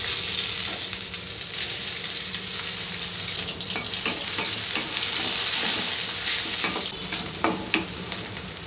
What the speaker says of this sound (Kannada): ಈಗ ಈರುಳ್ಳಿ ಹಾಕ್ತಾಯಿದ್ದೀನಿ.